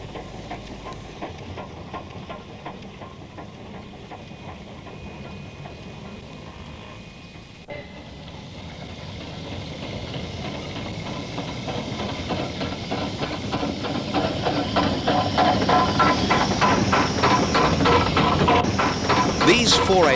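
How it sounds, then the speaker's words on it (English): An oil-fired New Zealand Railways KA-class 4-8-4 steam locomotive, a 145-tonne engine built at the Lower Hutt workshops, runs with a steady hiss that swells into rapid, loudening chuffs as it draws nearer, with a voice partly over it. "The pride of New Zealand Railways, 145 tonnes of KA locomotive, built in the NZR's own workshops at Lower Hutt in the North Island."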